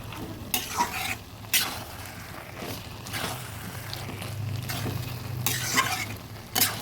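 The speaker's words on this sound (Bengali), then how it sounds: "জলটা আর একটু ফুটিয়ে নিচ্ছি নামিয়ে নেব" A Bengali curry of hilsa fish head with ash gourd simmers in a pan, giving a soft bubbling sizzle near at hand, broken by several sharp bursts of stirring and clatter from a spoon against the pot.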